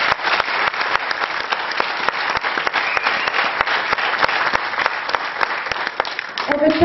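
A large indoor audience at a Bosniak community event applauds in a dense, sustained ovation. The clapping is loud and even, with crisp individual claps standing out throughout, and a voice briefly comes in at the very end.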